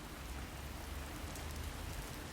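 Steady rain with gusting wind on a farm, a continuous dense hiss of falling drops with a low rumbling wind layer, even and unbroken throughout.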